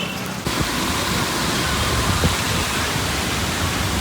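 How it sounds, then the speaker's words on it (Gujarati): Rain falls outdoors as a dense, steady hiss that fills the whole stretch without letting up, with a couple of faint knocks and no voices. "તો અમે નીચે ઉતરી ગયા છે ને વરસાદ ચાલુ થઈ ગયો છે."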